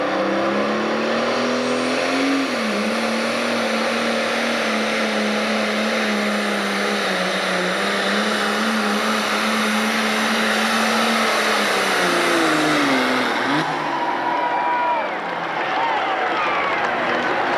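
A heavy 1466 International Harvester pulling tractor engine roars loudly and continuously at a tractor pull in Freeport, Illinois, pitch climbing and holding under strain, then dropping off near the end.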